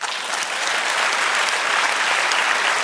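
Audience at a physics talk on analysing massive data bursts into dense, continuous applause, a loud, even wash of many hands clapping close by for nearly three seconds.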